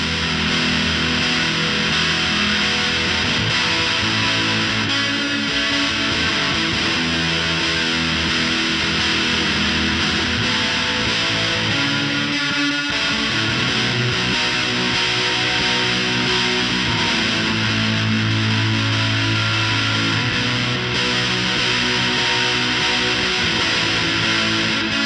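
Electric guitar played through a Big Muff fuzz into a Nonlinear reverb on a Line 6 HX Stomp, a dense, loud, distorted wash of sustained chords that blur into a continuous roar, heard alone.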